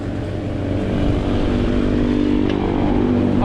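A motorcycle engine runs steadily on a trip to Patik, a loud continuous rumble with a constant drone throughout and no pauses or talk.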